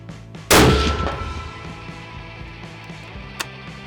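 A rifle shot at an outdoor shooting range, one loud sharp close blast with a decaying ring, followed a few seconds later by a faint distant crack.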